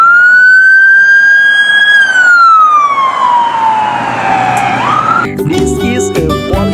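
A toy police car siren wails loudly and steadily, its pitch gliding slowly downward before breaking off into a burst of clattering toy noise near the end.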